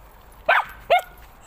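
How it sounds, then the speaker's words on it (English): A small noisy dog barks twice, two short sharp yaps about half a second apart, fairly close and clear over a quiet outdoor background. "I have a dog that's very noisy."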